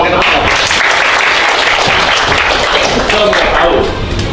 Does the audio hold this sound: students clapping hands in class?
yes